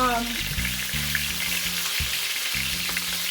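Oxtail browns in a pan on the stovetop for a Jamaican-style dish, giving a steady, dense sizzle that runs unbroken throughout, with a low humming drone beneath it and no talking.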